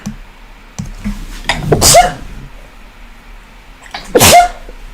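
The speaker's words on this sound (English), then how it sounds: "I'm gonna sneeze" Two sharp sneezes, one near two seconds and another about two seconds later, each a loud burst with a short wheezy tail, with no talking.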